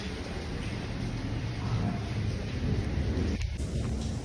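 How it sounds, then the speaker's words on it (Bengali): Heavy rain pours steadily with rumbling thunder beneath it, a dense continuous wash of sound at close range, with a brief sharper crackle near the end. "ভীষণ বৃষ্টি হচ্ছে।"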